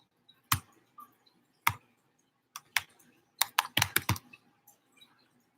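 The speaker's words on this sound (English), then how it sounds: "Can't talk while I type." Short bursts of clicky typing on a computer keyboard, several isolated keystrokes and then a quick cluster, close and quiet in a still room with no talking.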